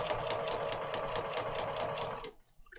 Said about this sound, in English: I'm just doing a straight stitch quite close to the edge.